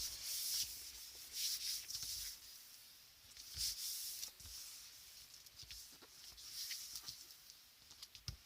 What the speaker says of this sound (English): I should probably wipe this down before I start rubbing it down